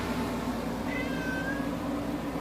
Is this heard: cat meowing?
yes